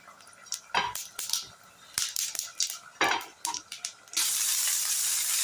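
Fennel seeds drop into hot sesame oil in a kadai, giving a series of sharp crackling pops and spatters, then a steady loud hiss of frying.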